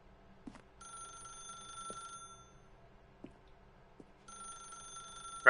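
A telephone in the video game The Stanley Parable rings in two bursts of steady electronic trilling with a gap between them, alongside soft footsteps and small clicks.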